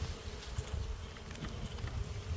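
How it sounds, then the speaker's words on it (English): Many bees fly around a hive on a spring day, a dense continuous buzzing close by with no voices. "Lots of bees flying around."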